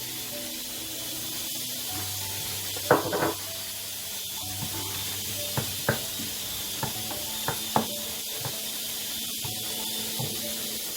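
Garlic fries in a pan on medium heat for a shrimp bourak filling. A soft, continuous sizzle hisses close by, with a few light clicks from stirring.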